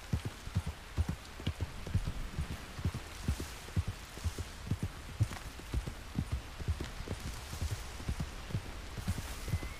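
Steady clip-clop of horse hooves on a hard surface in a video game, a brisk repeating trot with muffled thuds under a faint background hum.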